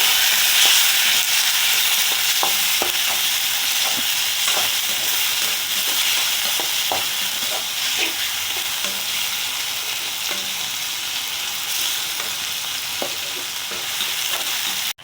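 Tomatoes and onions sautéing in hot oil in a pan for Karaikudi brinjal curry, a steady loud sizzle with occasional stirring scrapes, close up and without talk.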